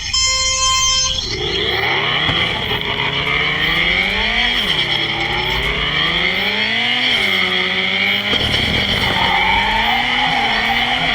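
A car drifting at Ebisu circuit gives a loud, sustained tire squeal that rises and falls in pitch over about eleven seconds as it slides all the way around a corner, with engine noise underneath.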